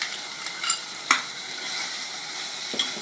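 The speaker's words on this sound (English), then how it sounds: "It is getting cooked in its own juices and curd, and now we are adding tomatoes." Mutton cooking in its own juices and curd sizzles steadily in a pan as tomatoes go in, a loud continuous hiss with a few scraping stirs and one sharp clink.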